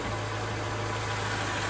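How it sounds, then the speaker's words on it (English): A Mazda Miata's transmission whines steadily while the engine idles, a constant close drone with a low hum running under it for the whole stretch, with no voices. "You just hear that trans sitting there fucking revving up against itself"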